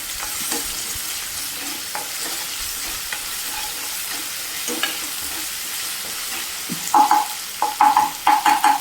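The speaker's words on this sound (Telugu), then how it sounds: "ఈ టమాటా వేగేటప్పుడు ఇది కొంచెం ఇలా మెత్తగా అయితే ప్రెస్ చేసుకోవాలన్నమాట" Tomatoes fry in a pan with a steady broadband sizzle, broken by scattered scraping and stirring knocks as a ladle presses them down, ending in several louder rapid metallic scrapes.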